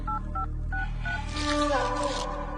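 Telephone keypad dialing tones: a quick series of short, clear beeps, each pairing two tones, followed by louder, busier background sound.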